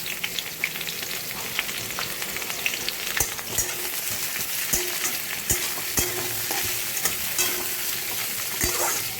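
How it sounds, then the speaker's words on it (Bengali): Onions fry with already fried pointed gourd in a pan, a loud, steady sizzle broken by repeated sharp clacks of a spatula stirring, with no voices. "পেঁয়াজগুলোকে একটু লাল লাল করে ভেজে নেব।"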